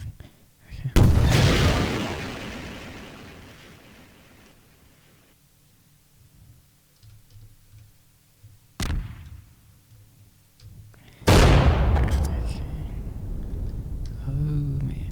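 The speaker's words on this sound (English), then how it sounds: "not nearly as big of an explosion, probably because it's launched." Large H-bomb blast in Garry's Mod, launched rather than set off on the ground: several loud, broad roaring booms spread across the span, the first rumbling and fading slowly, a sharp crack midway, then another heavy burst near the end.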